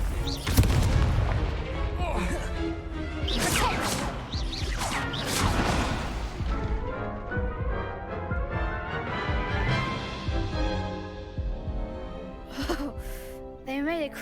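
A Confringo explosive spell cast in the video game Hogwarts Legacy, with fiery blasts and booming impacts mixed among whooshes, music and frequent talk across a busy duel.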